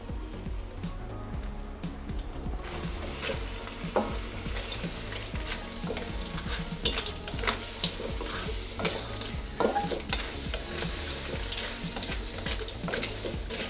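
Clams stir-fried with sweet Thai basil in chili sauce hiss loudly and steadily in a hot pan, with scraping stir strokes and light clatter throughout and no voices.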